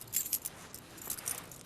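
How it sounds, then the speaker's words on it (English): A bunch of keys jangles in a few quick bright metallic rattles, close and fairly faint, with no talk. "The keys."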